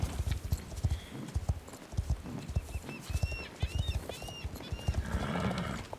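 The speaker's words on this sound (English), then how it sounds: "now our horse no longer stops automatically before Jasper." Steady clip-clop of horse hooves at a trotting rhythm in the video game Star Stable, with a few short whinnies partway through over a busy outdoor background.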